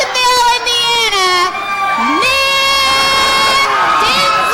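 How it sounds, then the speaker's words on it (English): A loud wrestling crowd at an OVW television show cheers and shouts for a tag team's entrance, a dense roar of high-pitched yells and whoops filling the whole moment, close and sustained. "you hear the crowd response to these two young guns"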